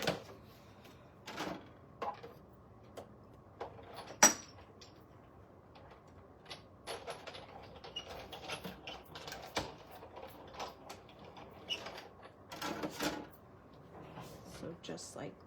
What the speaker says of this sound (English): I'm gonna run this through my die cutting machine.